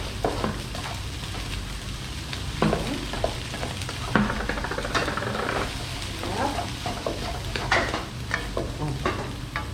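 Rice being stir-fried in a wok at a Thai cooking class in Bangkok, with steady sizzling and frying plus scraping and stirring strokes throughout, close and continuous, with occasional faint voices.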